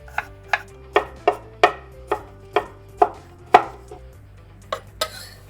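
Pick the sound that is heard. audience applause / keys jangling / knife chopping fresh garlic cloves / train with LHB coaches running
knife chopping fresh garlic cloves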